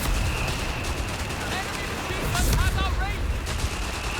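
Machine-gun fire rattles in Company of Heroes 3 during a 3v3 match, sustained bursts of shots with booming impacts and chirping effects layered over steady battlefield noise, moderately loud and a little distant.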